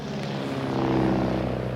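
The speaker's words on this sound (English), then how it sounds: "Is it too late to stop that plane?" Airplane flying away, a steady broad engine drone holding level throughout, fairly distant and uninterrupted.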